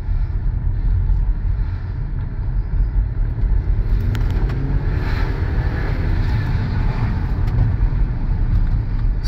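Inside a 2018 BMW X1 28i on the move, a steady loud low road and engine rumble holds throughout, with faint rising tonal sweeps partway through.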